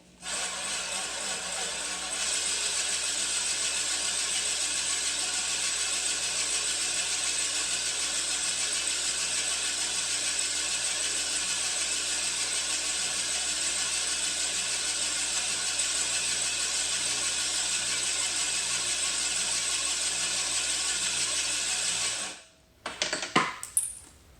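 A steady, continuous whirring grind of a handheld drill turning the reel of a Sun Joe 24V-CRLM15 cordless reel mower during backlapping with grit, running unbroken for a long stretch before stopping abruptly near the end.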